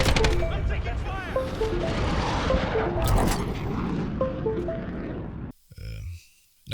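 Gunfire in a video game, with rapid bursts and booms rolling over steady game sound and a radio-style voice, continuous and loud for about five seconds before it drops away almost to silence.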